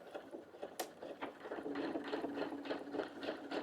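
Quiet, close sewing machine back stitching a seam on a Japanese knot bag, a faint steady rhythmic ticking and whirring of the needle mechanism.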